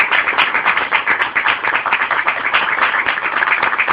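An audience claps in applause during a Spanish-language church sermon. Dense, steady clapping carries on without a break for the full four seconds, loud and close, with no speech over it.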